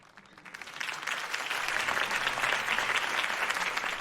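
Crowd applause from a game scene in Batman Telltale, swelling from quiet to a broad, steady wash of clapping that holds for several seconds with no talk over it.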